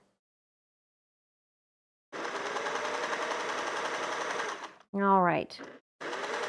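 A sewing machine stitches a quilted pillow cover, running in a steady close whir for a couple of seconds, pausing as a voice speaks briefly, then starting up again.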